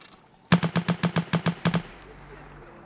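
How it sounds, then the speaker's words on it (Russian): A rapid burst of about ten evenly spaced gunshots sounds in the Escape from Tarkov shooter game, loud and punchy, stopping abruptly and leaving a faint ringing tail and low background hum. "Что за странные выстрелы?"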